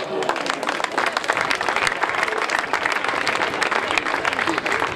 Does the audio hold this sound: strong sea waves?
no